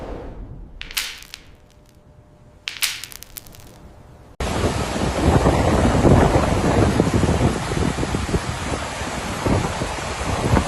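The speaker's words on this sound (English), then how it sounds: "unleashing torrential rain and fierce winds" Fierce storm winds from Storm Leonardo buffet the microphone. Quieter gusts and sharp bursts give way to a loud, continuous roaring rush of wind that lasts to the end.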